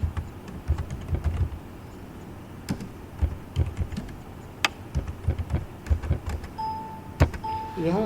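Keys tapped on a computer keyboard while entering supplier details into accounting software, heard as irregular close clicks in short bursts and single presses, with a faint electronic beep near the end.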